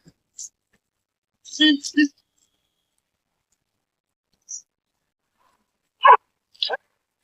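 A dog barks a few sharp times, a double yap followed later by two more barks, with long quiet gaps between them.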